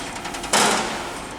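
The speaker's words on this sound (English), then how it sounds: "we're not doing anything other than running the table right now, just to show speed" An Okamoto ACC-6.18DX3 reciprocating surface grinder runs its table with the guard on, giving a steady mechanical whir that jumps sharply louder about a third of the way in and then holds nearly level, without talk.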